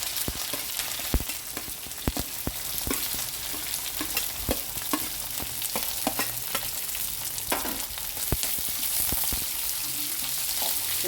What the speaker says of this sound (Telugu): ఉల్లిగడ్డలు వేసుకుంటాం.